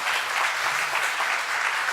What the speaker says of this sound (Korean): 제가 박수 받자고 얘기한 건 아닙니다.